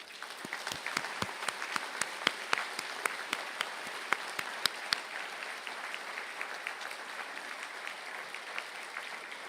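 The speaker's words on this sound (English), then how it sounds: "please stand up for a well-deserved round of applause" An audience at a university conferring ceremony applauds engineering graduates with sustained, dense clapping that holds steady for nearly ten seconds, with sharper individual claps standing out early on.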